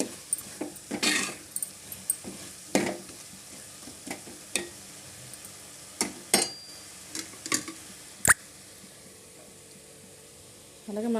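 A spoon scrapes and taps through prawn curry with drumstick pieces in a pan, the knocks coming in irregular bursts over a low sizzle, close up, with someone talking in the background.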